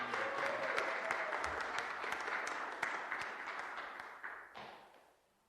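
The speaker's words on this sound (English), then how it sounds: "Y'all give Madonna and Danny a great big round of applause." Applause from the room at a city council meeting honoring people for their service to the city, a steady burst of many hands clapping that holds for several seconds, then fades out near the end.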